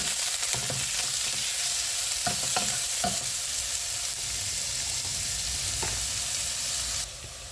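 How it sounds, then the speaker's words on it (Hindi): Steady loud sizzling of onion, garlic and ginger frying in hot oil, with occasional stirring clinks and scrapes throughout. "अब हम इसमें अपना प्याज और लहसुन अदरक डाल देंगे और इसको हमने गोल्डन ब्राउन फ्राई कर देना है"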